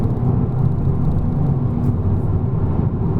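Honda Civic Type R cruising in fifth gear, heard from inside the cabin as a steady, loud low engine and road drone with no change in pitch and no talk.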